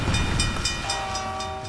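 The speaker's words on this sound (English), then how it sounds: "A Burlington Northern train rolls to a stop and is left by its crew." A Burlington Northern train rolls toward a stop at night in a small eastern Washington town, with a steady metallic rumble and faint rhythmic clatter heard close and alone over a short stretch.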